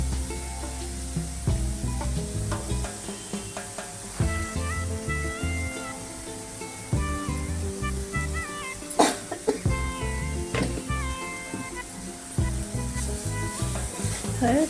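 Shredded cabbage sizzles in hot oil with turmeric and coriander powder in a home kitchen, a steady crackling fry with scraping stirs and a brief cough partway through.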